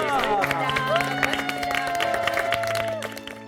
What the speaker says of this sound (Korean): 김진경 씨와 아버님께 큰 박수